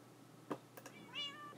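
In the Minecraft video game, a cat lets out one short, soft meow after a couple of faint clicks, heard quietly and alone over low game ambience.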